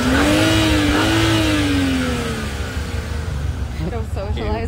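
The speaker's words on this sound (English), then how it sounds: "Join in with them, we need a rev battle." Car engines revving in a rev battle at a nighttime meet, a loud rising and falling engine note close by, with people shouting and talking over the revs.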